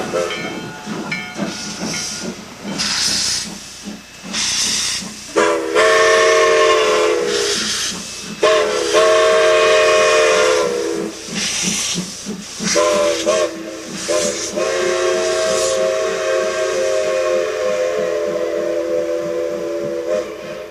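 A heavy steam passenger train hauled up a mountain grade at Mt Rainier by two rod engines, numbers 15 and 17, with loud, close hissing steam bursts, rhythmic chuffing and long steam-whistle blasts repeating throughout.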